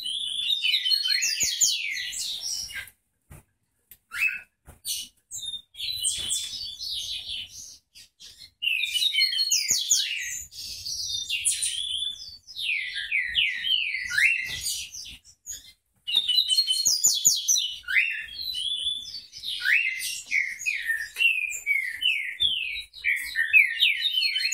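A coleiro baiano songbird sings bright, rapid chirping phrases in repeated bursts separated by short pauses, close and clear against a quiet background.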